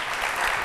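Applause on a televised Turkish word game show studio, a steady dense wash of clapping that stays loud and even throughout without any talk.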